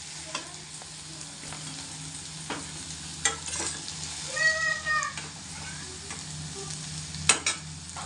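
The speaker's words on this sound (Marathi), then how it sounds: "अशा प्रकारे भेंडी फ्राय करून घ्यायची मस्त व्यवस्थित" Okra frying and being stirred in a pan, a soft steady sizzle with occasional scraping and tapping of the utensil, fairly quiet and close, with no one speaking.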